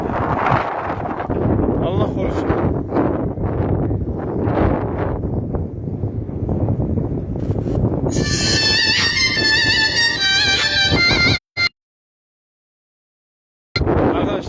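Steady wind roars and buffets the microphone throughout at a forest fire on the Karaman–Mut road, with a person speaking under it and a brief dropout near the end.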